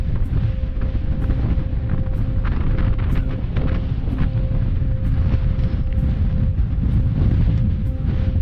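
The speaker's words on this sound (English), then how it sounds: "It is quite windy, it is quite misty up there." Strong wind blows at the foot of the Crib Goch path on Snowdon, a loud, steady roar that buffets the microphone close up throughout, with no voices.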